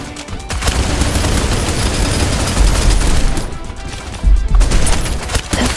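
Dense, continuous automatic gunfire from the video game Snowbreak: Containment Zone, loud and close, with rapid bursts and heavy impacts running almost without pause.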